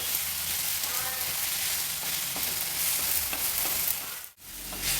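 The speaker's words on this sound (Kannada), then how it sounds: "ತೊಂಡೆಕಾಯಿ ಚೆನ್ನಾಗಿ ಫ್ರೈ ಆಗಿ ಸ್ವಲ್ಪ ಮೆತ್ತಗಾಗಬೇಕು ಅಲ್ಲಿವರೆಗೂ ಹುರಿಬೇಕು" Ivy gourd pieces with cumin seeds fry in a hot pan, a steady close sizzle with scraping stirs running throughout, easing briefly near the end before resuming.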